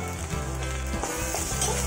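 Ginger garlic paste with salt frying in melted butter gives a steady, close, continuous sizzle with a low background hum and no talking.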